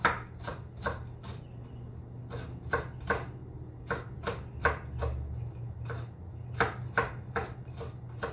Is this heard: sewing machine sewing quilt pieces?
no